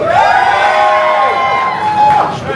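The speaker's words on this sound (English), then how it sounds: "Cheer for the Xbox 360!" A crowd at a live console-wars event cheers and shouts for the Xbox 360, a loud, sustained roar of mixed voices with whoops rising again near the end.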